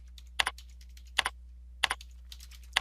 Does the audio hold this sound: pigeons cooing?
no